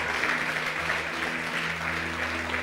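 A church congregation applauds during a live service, with an even, continuous patter of many hands clapping at a distance, fairly soft, over a low steady hum from the room.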